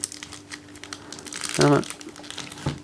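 Paper sticker sheet and instruction manual from a Kamen Rider Gaim Suika Arms candy toy crinkle and rustle as they are handled and unfolded, close and brief, with someone talking over the handling.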